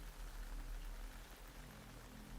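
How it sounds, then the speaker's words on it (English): Steady rain in the Metal Gear Solid Delta video game, a dense, even hiss of falling water that stays constant and fairly close, with no voices over it. "You can entertain me until the rain stops."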